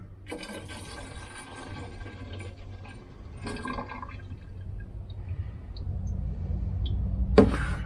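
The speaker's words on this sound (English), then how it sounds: "So let's put this 8 ounces of fuel in." Diesel fuel, about eight ounces, poured from a cup into the tank of a VEVOR 8KW diesel air heater; a close, gurgling pour with a few bursts of rubbing and handling noise and a sharp knock near the end.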